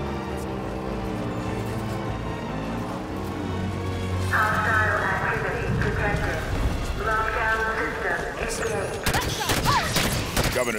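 Halo 5 gunfire from enemy ships, a steady rattling barrage of shots under a dense battle soundscape with music and voices talking over it.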